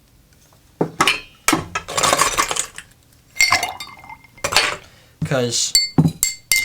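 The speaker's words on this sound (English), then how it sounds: "I'm just going to stir these to chill them a little bit" Ice rattles and clinks against glass as a cocktail is stirred, with bursts of loud clattering separated by short pauses and a brief spoken word.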